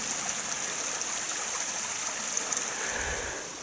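Steady rushing and trickling of a woodland stream flowing continuously beside a country lane in Denbighshire, North Wales, a bright watery hiss with no voices.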